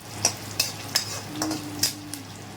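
Asafoetida and spices crackling in hot mustard oil for a dahi pakudi curry, a handful of sharp pops and spatters spaced through a soft sizzle, close and fairly quiet.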